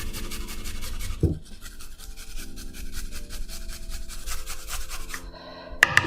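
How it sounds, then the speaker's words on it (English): Garlic and ginger rubbed against a hand grater, a close rasping scrape repeated in steady strokes with short pauses, ending in a couple of sharper knocks. "We can use a grater to just grate everything."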